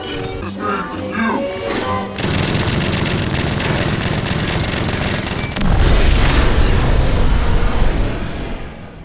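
A grenade explosion in a scene from the Fallout show, heard as a loud sustained booming rumble that grows heavier partway through, with dense low roar and scattered crackle.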